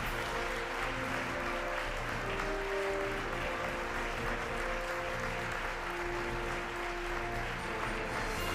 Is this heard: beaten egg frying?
no